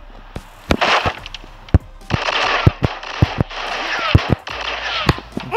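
Gunfire in the shooter game Sierra 7 cracks out as sharp single shots spaced unevenly, each followed by bursts of noisy debris and rattling, close and loud.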